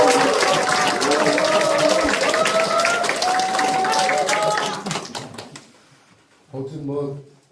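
Clapping from an audience at a regional committee launch event in a rural community centre, dense and continuous under a loud voice talking over it, tapering off after about five seconds, with another short voice near the end.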